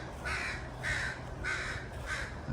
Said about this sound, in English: I see I have crow friends.